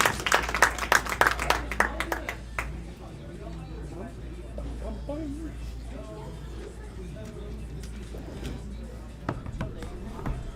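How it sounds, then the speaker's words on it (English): Bowling fans applauding the eight finalists at a bowling alley tournament final, a short burst of clapping at the start that quickly dies away into room noise with an announcer talking over it. "let's give our 8 finalists a nice round of applause as they begin the semifinal matches"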